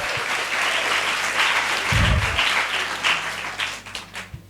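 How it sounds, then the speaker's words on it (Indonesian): Applause from an audience at a Ramadan lecture held at the Darul Falah Islamic boarding school, with steady dense clapping that swells and then thins out into scattered claps by the end. "Tepuk tangan untuk Darul Falah."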